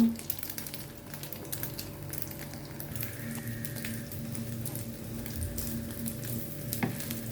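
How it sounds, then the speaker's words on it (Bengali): Eggs fry with onion and red chilli in a pan with a soft, continuous sizzle and scattered crackles, fairly quiet and close, with occasional light clinks. "আমি এখানে যে ডিম ভেজে নিচ্ছি ঝাল পেঁয়াজ দিয়ে"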